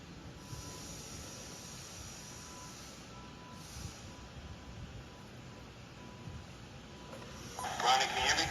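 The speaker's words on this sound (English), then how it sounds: "the brake release sounds different" A short, loud burst of hissing air from train air brakes releasing near the end, rising out of a steady low rumble of rail machinery over an interlocking.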